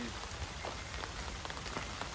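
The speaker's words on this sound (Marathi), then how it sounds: "आम्ही उतरलो आणि पाऊस पडायला लागला।" Steady rain falls outdoors in a village, a dense, even patter of drops on surfaces that stays close and constant with no voices.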